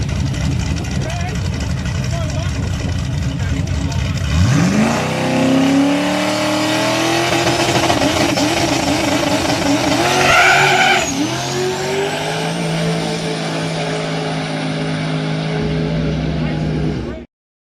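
A no-prep drag racing car roars through its buy run, a loud engine launching and climbing steadily through the revs with a brief spin and a gear change midway, holding full throttle until it cuts off abruptly.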